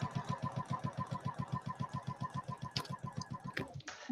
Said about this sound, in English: So as you can see here, I'm going to chain piece.